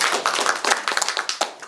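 A small audience at an art gathering claps for a guest, a handful of close, distinct hand claps with an uneven rhythm rather than a dense roar.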